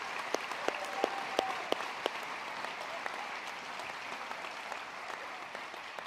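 An audience at a Golden A awards ceremony applauds students and educators, a sustained even wash of clapping with a few sharper individual claps standing out near the start, heard from within the room.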